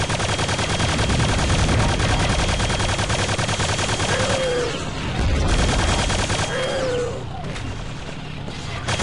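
Rapid gunfire and explosive blasts from a Super Tank enemy in the video game Quake 2, a dense continuous barrage with brief whining tones, loud and close throughout.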